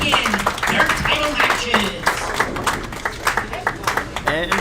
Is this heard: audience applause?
yes